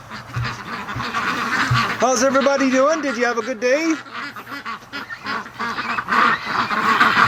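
Ducks quack and honk in a flurry as they are called home from the swamp in the evening, the birds close by while someone talks to them throughout.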